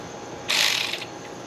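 A single short, bright ratchet burst from tightening a bolt on a 1937 Austin 7 during an oil change, close and clear against a quiet background.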